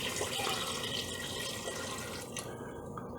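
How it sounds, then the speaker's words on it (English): Water runs steadily into a pot of gizzards being prepared for deep frying, a continuous splashing pour with small drips, close and moderately loud, no talking. "then we're just gonna add some water in here until my wife tells me when to"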